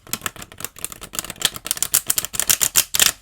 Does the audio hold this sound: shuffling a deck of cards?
yes